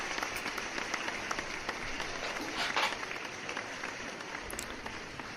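Steady applause during a live stream, a continuous wash of clapping at an even level for several seconds, with no voices rising above it.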